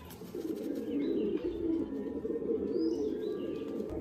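A male and female pair of tournament pigeons coo softly nearby, low rolling coos repeating steadily, with a few faint chirps and a brief rustle of wings.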